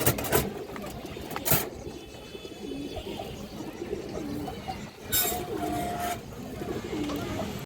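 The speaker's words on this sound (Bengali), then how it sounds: "খুবই সুন্দর একটা মাদি কবুতর" A female pigeon gives low, repeated cooing close by among other pigeons, with a couple of sharp clattering knocks standing out from the steady murmur.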